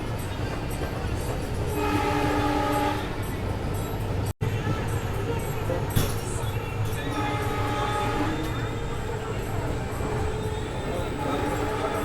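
A Vistadome coach on the Mangaluru to Bengaluru line runs with a steady rumble and clatter, while a train horn sounds in long tones early on and again later.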